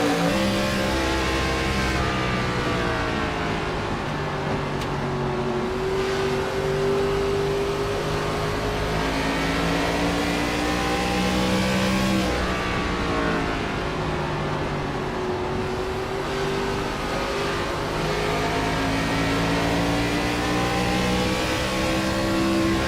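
ARCA race car at Richmond, heard onboard from the cockpit: a loud, continuous engine roar with pitch climbing and dropping through repeated acceleration and lifts over more than twenty seconds, with no talk.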